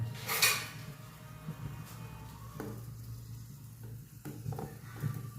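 A boy makes Maggi instant noodles in a pan, stirring and scraping with a utensil against the metal amid a soft low sizzle. A sharper clatter comes near the start, then intermittent knocks and taps. No one speaks.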